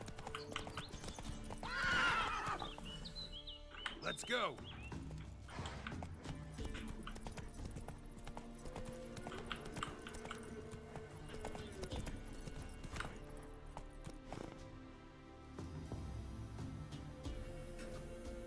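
A horse gallops in The Witcher 3: Wild Hunt, with steady clip-clop hoofbeats running throughout and a whinny near the start, while someone speaks briefly over the game sounds.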